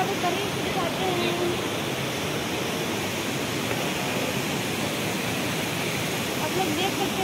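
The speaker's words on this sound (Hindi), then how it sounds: "आप लोग देख सकते हैं इधर झरना पूरा बह रहा है।" Chandro waterfall near Bokaro, Jharkhand, rushing in full flow, a steady broadband roar of falling water that stays constant and fairly close throughout, with no clear voices over it.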